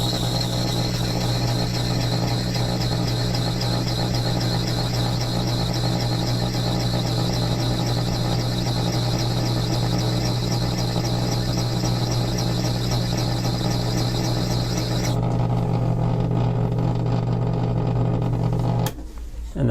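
A hand engraving graver shaped against a coarse grinding wheel gives a loud, continuous high whine with a steady motor drone, holding for about fifteen seconds before the grinding contact drops away and the hum winds down.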